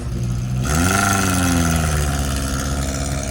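A small old Morris car pulls up behind at a classic car and bike breakfast meet, its little exhaust giving a close, rising then steady engine note that fills the clip, with no talking over it.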